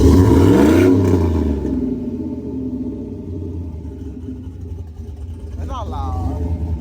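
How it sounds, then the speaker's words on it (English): Engine of a brand-new truck roaring up close, loud at first and then settling to a steady rumble, with a brief rising whine near the end; people talk over it. "It's gonna rev it. Let's see how loud is it."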